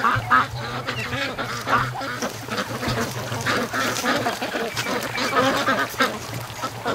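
Ducks quacking as they root through a swamp, an irregular stream of nasal calls and honks over rustling and splashing, close and continuous without speech.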